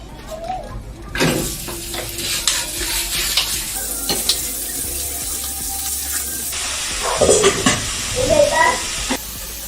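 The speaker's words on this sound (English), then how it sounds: "I've started by like frying the meat in some cooking oil until it becomes tender" Meat fries in cooking oil in a home kitchen with a steady sizzle, mixed with stirring, clattering utensils and some running water nearby.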